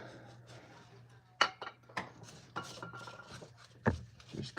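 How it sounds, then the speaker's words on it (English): A metal tool scrapes carbon deposits off engine valves during a valve job on a Plymouth, giving short irregular rasping strokes and a few sharp clinks, close and fairly quiet over a low hum. "scrape all the carbon off of the whatchamacallit"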